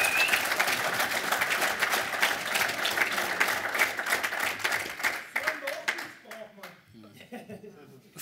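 A seated audience applauds footballer Alfred Körner at an event celebrating Rapid's anniversary, a dense burst of clapping that thins and fades out over several seconds as a voice begins speaking.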